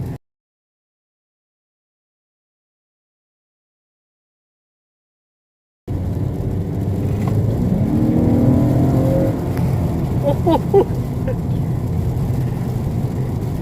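A 2019 Honda Accord 2.0T four-cylinder accelerates hard, its steady engine roar building and holding after about six seconds of silence, heard from inside the car.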